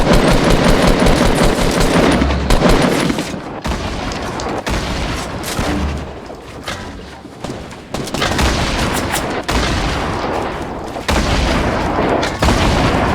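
Dense video-game gunfire in a team shooter round, bursts of automatic weapon fire and booms rolling on almost continuously, loud and close, with only brief gaps between volleys.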